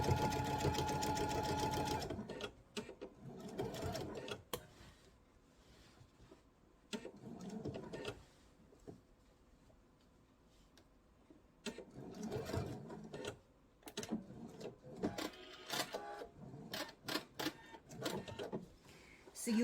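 A sewing machine stitches binding on a quilt in bursts of rapid mechanical whirring, loud and close, stopping and starting between runs, with a voice heard faintly at times.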